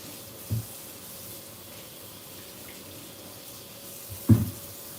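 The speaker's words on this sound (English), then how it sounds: "Sweet potatoes grow underground, so I most definitely am going to rinse them off." Tap water runs steadily over sweet potatoes at a sink as they are rinsed, making a soft continuous spray broken by two brief louder splashes or knocks.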